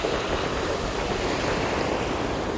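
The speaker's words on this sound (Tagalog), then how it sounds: "Laki ng alon." Big ocean waves roll and wash at a distant fishing spot, a dense steady roar of surf mixed with wind buffeting the microphone, with no voices.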